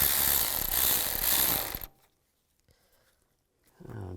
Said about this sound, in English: And tighten down the clamps.